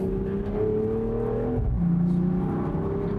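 2020 BMW Z4 M40i with the top down, its engine and exhaust giving a loud, close, continuous rumbling drone with a slight pitch shift, heard from inside the open car.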